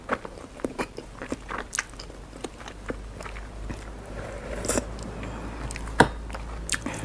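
Close-up biting and chewing of duck egg dipped in seafood sauce with vegetables, with moist crunches and squishy bites at an irregular pace and no talking.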